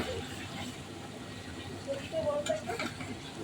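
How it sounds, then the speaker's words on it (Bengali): Desi chicken being sautéed in a pan for a traditional Bengali curry, a soft close stirring and low sizzle with a faint scrape or two, quiet and steady. "মোটামুটি চিকেনটা কষে যাচ্ছে"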